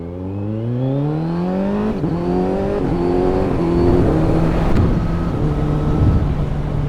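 A Kawasaki Z900 SE motorcycle in full power mode with quick shifter accelerates hard, its engine note climbing in pitch and then stepping up through several quick gear changes, loud and close, with wind rush building behind it.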